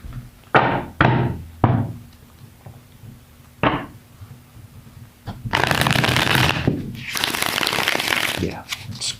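Tarot cards get shuffled in a few sharp, separate bursts of snapping and riffling, then one longer, louder shuffle, all close by with no talk.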